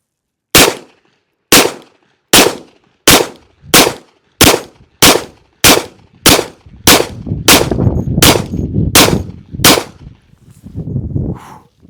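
Langdon Tactical Beretta 92 Elite Compact pistol firing a dozen loud, sharp shots at a steady pace, each with a crisp report and short ring, the later ones trailing into a rumbling background.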